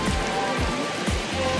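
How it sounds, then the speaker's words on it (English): Rain falls steadily in Malaga, Spain, making a continuous close wash of drops on surfaces, with a few low thumps and passing background noise mixed in. "It's raining."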